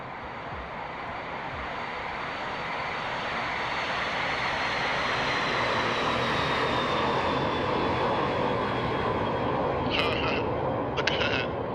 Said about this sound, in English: Look at that wobbly takeoff.